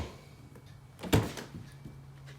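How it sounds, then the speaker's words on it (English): A door on a 2000 Volvo V70R swings on its freshly repaired check strap, giving one soft, close thunk in an otherwise quiet space. "the door check strap works without a peep"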